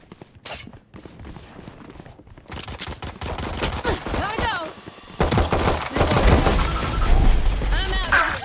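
Gunfire and explosive bursts from a video game firefight with a thrown swarm grenade, crackling in dense, busy volleys that grow louder and heavier toward the end.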